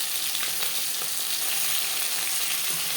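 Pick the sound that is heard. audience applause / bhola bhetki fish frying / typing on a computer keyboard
bhola bhetki fish frying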